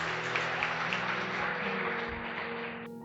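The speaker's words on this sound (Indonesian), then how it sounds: "Tepuk tangan dulu buat dia." A youth church congregation applauds, giving a steady, dense wash of clapping that holds for about three seconds over sustained low musical tones before tapering off at the end.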